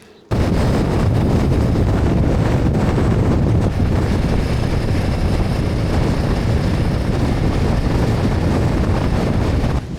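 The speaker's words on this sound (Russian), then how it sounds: "Такой ветер страшный" Strong wind in the Sahara roars and buffets loudly and continuously, a heavy low rumble with no voices.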